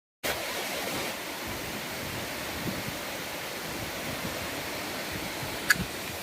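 Hebbe Falls near Kemmangundi pours and splashes in a constant broad roar of rushing water, heard close and steady, with a touch of wind and no talk.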